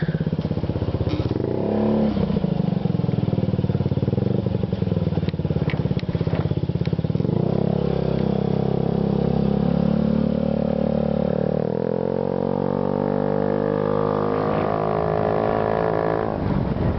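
A 2009 Honda Ruckus 50cc scooter fitted with a Yoshimura TRC aftermarket exhaust drones loudly and continuously on a road ride, its small engine rising and falling with throttle amid some wind rush.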